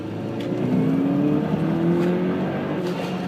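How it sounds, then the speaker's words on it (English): A turbocharged 2005 Subaru Legacy GT accelerates hard in snow to pass a truck, its engine note climbing in steady rising harmonics with a whirring turbo underneath, loud and continuous throughout. "All right, I'm going to pass this truck like a madman."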